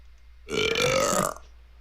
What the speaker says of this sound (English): I can tell a fake burp against a real burp anytime.